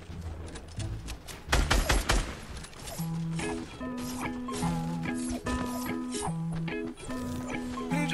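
Shots from a pump shotgun in Fortnite, including the Heavy Pump, fired inside a house: a cluster of loud blasts early on, then steady game music and effects with a few further sharp hits.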